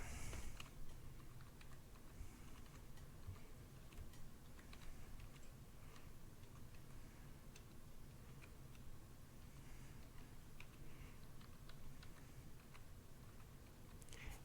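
Quiet keys clack on a computer keyboard as an email address is entered into a Netgear Wi-Fi extender account setup page, a steady stream of light, close taps with no voices.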